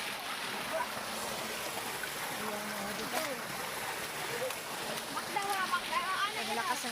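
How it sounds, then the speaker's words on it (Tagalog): Water rushes steadily in a broad, hissing flow like a swollen stream, a creek in Samar running strong after fresh rain, while voices talk faintly underneath. "Naglakas ang agos ng tubig kasi bagong ulan lang."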